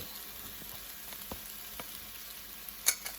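Dry rice tipped into a hot pan for Brussels sprout risotto with blue cheese, a quiet, even sizzle carrying a few soft scrapes and light clicks, ending in a sharp tick.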